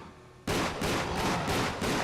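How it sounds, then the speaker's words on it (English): Rapid gunfire in Tomb Raider: The Angel of Darkness starts abruptly after a short quiet moment, then continues as a loud, close burst of about five or six evenly spaced shots with no voices present. "Just shoot him when he's on the ground"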